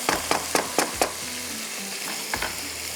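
Onions frying in a pan with a wooden spoon, a steady close sizzle broken by several sharp scraping stirs in the first second and one more near the end, with no talk.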